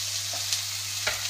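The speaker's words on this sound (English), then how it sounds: "We're going to add just some chopped onions and stir those in." Chopped onions frying in a pan, a steady close sizzle with a few soft scraping stirs over a low hum.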